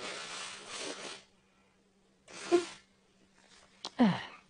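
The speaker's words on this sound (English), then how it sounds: "Just gonna blow my nose quickly. So apologies for the disgusting noise." A person blows their nose into a tissue in two separate bursts, each a loud, close, rasping honk, with a sharper sniff-like burst near the end and quiet pauses between.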